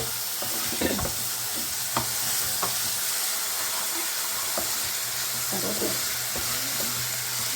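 Ingredients for carrot chutney are sautéed in a pan, giving a steady hissing sizzle broken by intermittent spatula scrapes and taps against the metal, close by and without speech.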